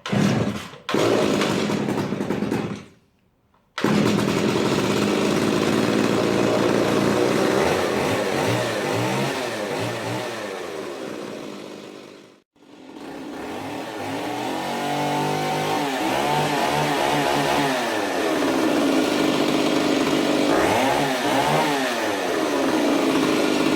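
Stihl 028 Wood Boss chainsaw, restored and choked for a cold start, catching and running loud and close, revving up and down with two brief drops to near silence.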